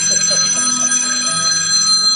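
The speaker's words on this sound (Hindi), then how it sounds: "अरे अरे कोई मेरी फोन को सुनने आओ।" A telephone rings continuously in a steady, bright electronic trill throughout, loud and close, with no voices over it.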